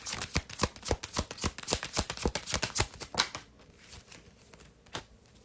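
Tarot cards being drawn and shuffled by hand, heard as a quick run of crisp, close riffling snaps that slows to a few scattered flicks near the end.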